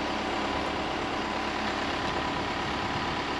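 A motorcycle engine idles with a steady, even rumble that holds at a constant level throughout.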